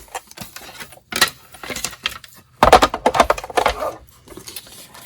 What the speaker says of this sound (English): Now we're going to get the Big Shot and we're going to cut out our other pieces.